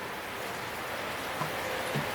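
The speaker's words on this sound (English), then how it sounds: "you are picking up on the sound of the rain" Steady rain falls outdoors as a continuous even hiss of drops, with a few faint drips on a surface standing out.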